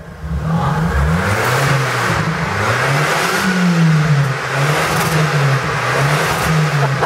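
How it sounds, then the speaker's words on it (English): A car's exhaust, fitted with a side pipe and a muffler, revs repeatedly up and down: a loud, close, rising and falling engine drone with rhythmic throttle blips and no talk. "that was uh, a rev up video of Aaron's exhaust after uh, he put the muffler on it"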